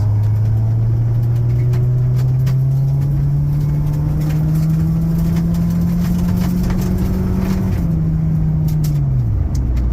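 A winter beater car with a Spec B exhaust accelerates hard, its loud, droning engine note climbing steadily in pitch for about eight seconds before dropping off abruptly as the throttle lifts.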